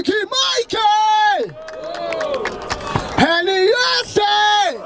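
Crowd at a Brazilian freestyle rap battle in Barueri, São Paulo cheers, whoops and shouts loudly, with a host's amplified voice talking and calling out over the continuous noise.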